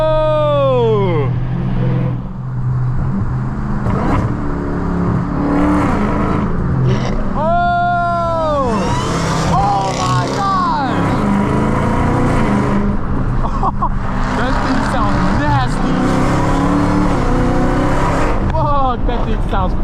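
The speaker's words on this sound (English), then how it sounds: "Oh my gosh, it's a Hellcat." A Dodge Hellcat roars in rush hour traffic, its engine revving hard with rising and falling sweeps, loud and close, while excited voices shout and talk over it throughout.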